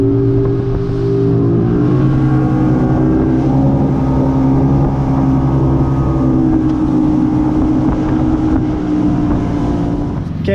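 The Warrior fishing boat motoring along on a muskie fishing trip, its engine droning loud and steady throughout with wind buffeting the microphone and no voices.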